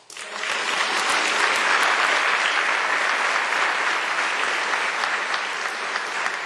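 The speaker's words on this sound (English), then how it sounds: "Please join me in showing them our appreciation with another round of applause." Sustained audience applause fills a large hall during a Nevada governor's State of the State address, steady and dense clapping from many hands throughout, with no talking over it.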